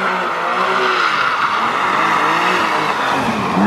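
A BMW M2 accelerates hard, its engine revving loud and close with a rising, strained pitch that holds steady before cutting off abruptly at the end.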